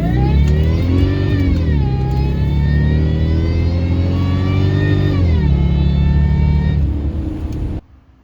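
A car engine revving hard in one long sustained run, loud and close, with pitch rising and falling through the revs before it cuts off abruptly near the end.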